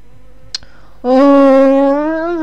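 A sustained, steady harmonic buzz of bees in the online horse game Star Stable Online sets in partway through and holds loud and close to the end, after a brief sharp click just before.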